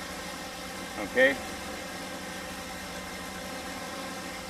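A 408 cubic inch LS engine fitted with 100 lb per hour fuel injectors idles steadily in a garage, a constant low drone, while a voice briefly speaks over it.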